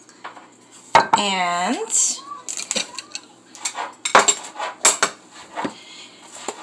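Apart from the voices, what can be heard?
pan handled on stove with olive oil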